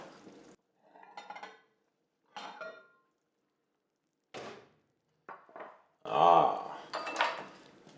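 Cheese, lemon zest, salt and pepper are stirred into a creamy, wine-cooked dish in a pot, heard as separate bursts of utensil clanks and scrapes against the metal, close and clear with quiet gaps between them.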